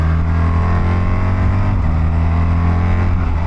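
A loud, steady engine hum from a 2024 BMW R1300GS motorcycle ridden quickly, with a strong low tone and sustained harmonics running continuously without a break.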